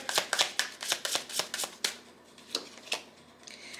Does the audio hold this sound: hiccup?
no